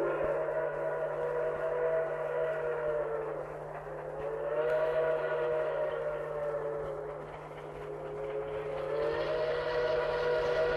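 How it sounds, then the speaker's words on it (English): A train at a railroad crossing sounds its whistle in long, swelling and fading blasts, a steady rumble of rolling cars underneath, heard alone without voices. "Now stand with me at the railroad crossing and hear another familiar sound."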